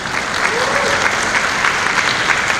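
Brief burst of audience clapping at a global economy conference as a panelist, a former Philippine finance secretary, is welcomed; dense, even applause filling the room, with no speech.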